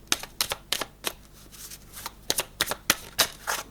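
Tarot cards being shuffled close up in a series of quick, crisp riffling bursts separated by short pauses, with no talking.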